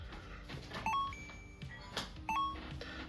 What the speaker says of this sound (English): We just got a notification that we are up on this one.